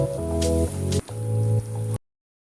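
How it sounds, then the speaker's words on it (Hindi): Water is added bit by bit to gram flour and potato tikki batter and mixed, giving close, wet squelching strokes in a few uneven bursts before cutting to silence; no one speaks. "अब मैं थोड़ा थोड़ा पानी करके इसमें डाल के ऐड करके इसका बैटर सा बना लेती हूँ।"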